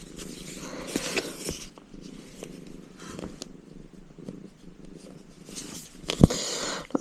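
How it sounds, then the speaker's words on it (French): A cat lying on long lengths of cross-stitch fabric purrs steadily and close up, a soft rumbling rhythm with occasional rustles and small bumps of the fabric being moved. "il y a le chat qui est couché sur les longueurs de la toile, là vous le voyez, et qui râle dès que je bouge un peu trop l'ouvrage"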